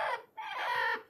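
A brooding desi hen set on eggs gives a short, close clucking call, rising and falling over about a second, heard alone.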